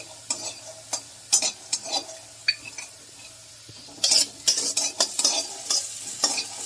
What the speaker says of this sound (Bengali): আলুর সঙ্গে আদাটা একটু ভালো করে নেড়ে নেব।